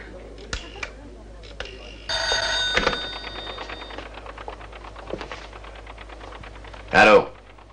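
An old-style telephone bell rings in short bursts between clicks and handling noises in a room, with a sharp ring near the end.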